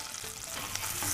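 Garlic and ginger frying in melted butter in a pot for sweet corn soup, a continuous soft sizzle with faint stirring, fairly quiet and steady with no talking.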